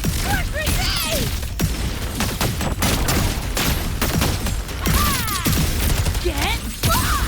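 Grenade blasts and gunfire in the Wuthering Waves video game during a Cyberpunk 2077 Edgerunners collaboration battle, with dense repeated bangs and booms over busy combat effects and brief voiced exclamations.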